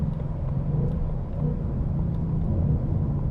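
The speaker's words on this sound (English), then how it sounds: "So we're gonna make our turn here, do a little downshifting." Engine of a 2021 Ford Mustang GT Premium heard from inside the car while downshifting into a turn: a steady, loud low rumble that swells slightly midway, with no talking.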